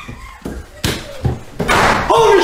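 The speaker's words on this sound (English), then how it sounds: "that fucking thing just slammed your door" A door slams shut during a frightening, chaotic moment, one of several sharp broadband thuds, with loud, panicked shouting from people close by.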